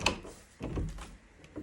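An old door in an abandoned holiday camp is pushed open during urban exploration, giving a few soft thuds and a short creaking scrape, heard close and fairly quiet.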